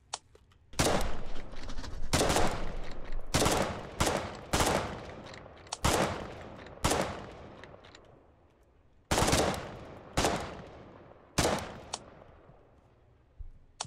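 Rifle and automatic gunfire in the war video game Foxhole, loud sharp shots in irregular bursts and single cracks, each trailing off into a short echo.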